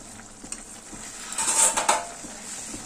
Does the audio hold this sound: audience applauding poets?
no